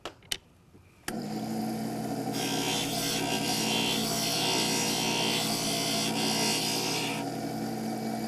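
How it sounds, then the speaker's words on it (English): Stained glass grinder shaping a glass piece to a pattern, a steady loud whirring grind that starts abruptly after a couple of faint clicks and continues evenly without talk. "this piece is not cut to exactly the design that we want, and so we're grinding to that design"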